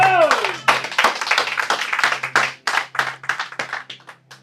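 A church congregation praising the Lord with quick, sharp clapping in uneven bursts, close and lively, with voices calling out around the claps.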